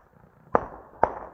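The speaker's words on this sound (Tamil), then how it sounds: "நீங்க பாருங்க அப்படியே வயலை எதிரொலிக்குது பாருங்க வெடிக்கிறது." Two sharp Diwali firecracker bangs about half a second apart, each echoing briefly across open fields, outdoors in an otherwise quiet setting.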